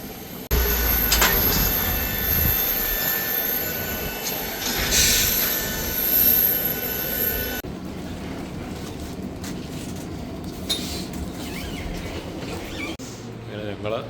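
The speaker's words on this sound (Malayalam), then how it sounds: "ഞങ്ങൾ കുറച്ച് നേരം ട്രെയിൻ സ്റ്റേഷനിലൊക്കെ വെയിറ്റ് ചെയ്ത് ഞങ്ങളുടെ ട്രെയിൻ വരുവാണല്ലോ" A train pulling into a railway station in Vilnius, Lithuania, a loud rumble with a high metallic wheel squeal that cuts off midway, followed by quieter rolling noise and station ambience.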